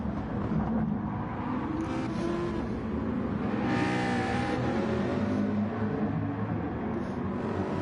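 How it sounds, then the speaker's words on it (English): Race cars jostling for position in a GT-class sim racing event at Lago Maggiore, one car pushing to pass on the inside as another holds the outside. Engines drone loudly and steadily with a rising surge throughout, and no voices are heard. "Magic Man on the outside, the McLaren driver on the inside."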